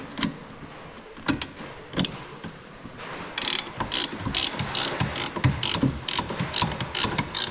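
A ratchet clicks rapidly while bolts are tightened on a Brembo big brake kit with 14-inch rotors on a Z31 300ZX, the pawl ticking in steady runs close by with a few separate metallic knocks.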